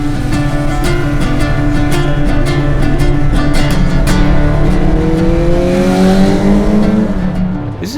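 A 1973 Kawasaki Z1 superbike engine runs at a loud, steady pitch, close by, then winds up as the revs climb toward the end.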